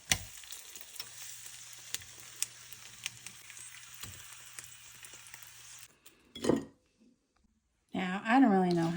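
Eggs fry in a pan with a steady close sizzle and a few light clicks of a utensil, then the sizzle cuts off and a voice speaks briefly near the end.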